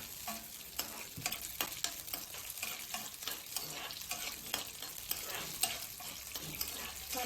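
Green chillies frying in a tablespoon of oil in a kadai, a lively continuous sizzle with repeated scraping stir strokes and crackles throughout, close and fairly loud.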